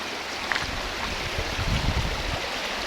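A clear stream flowing from a waterfall on rural land in Kaeng Khoi, Saraburi, a steady rushing wash of water with faint low gurgles, continuous and moderately close.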